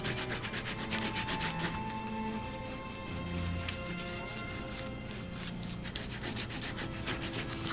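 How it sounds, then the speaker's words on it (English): A bone folder rubs steadily across folded paper while a tile folder is made, giving a continuous, close scraping and rasping texture with no break. "I can take my bone folder and rub it down, because I like it to make sure it's nice and tight."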